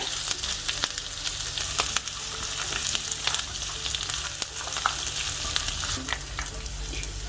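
Steady, dense sizzling of green chillies frying in a pan over a low flame, with occasional sharp pops and crackles throughout.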